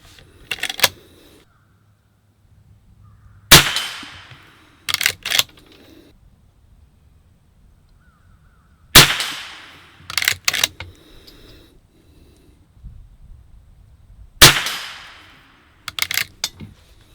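A rifle fitted with a Skinner peep sight fires a group of shots: each loud, sharp report is followed by one or two quick follow-up shots, with cycles repeating at intervals of several seconds and quiet in between.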